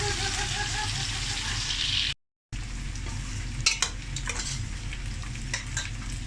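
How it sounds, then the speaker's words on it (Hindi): Potatoes fry in curry masala for a karela gosht salan, with a steady close sizzle and occasional stirring scrapes that continue after a brief dropout. "हमारे आलू भी फ्राई हो रहे हैं"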